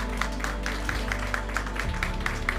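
Audience applause greets a finalist at the 2021 Île-de-France regional final of a burger contest: steady, dense clapping from a crowd, fairly loud and continuous throughout, with no speech over it.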